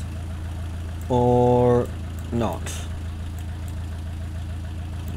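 In Kerbal Space Program, a plane engine set to full throttle drones as a steady low hum throughout, while a voice speaks briefly over it.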